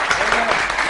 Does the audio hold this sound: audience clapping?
yes